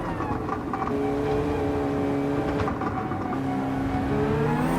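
Race car engine in Gran Turismo 7 accelerating hard past a Nissan GT-R, a steady loud drone with rising harmonic tones and gear-shift shifts across the whole span.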